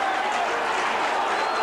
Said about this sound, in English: the very pro St Kilda crowd urging their players on